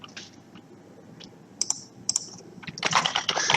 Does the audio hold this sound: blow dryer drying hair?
no